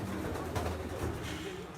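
Pigeons coo at a pigeon keeper's place, low and close, mingled with faint background murmur that may be a voice.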